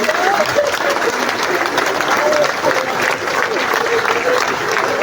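Sustained applause from a large crowd at a funeral farewell for an actress, steady and dense throughout with a faint voice rising briefly above the clapping.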